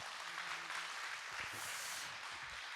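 Applause from an audience at a Korean political party lecture event welcoming a lawmaker, a faint, even patter of clapping held low throughout with no speech over it.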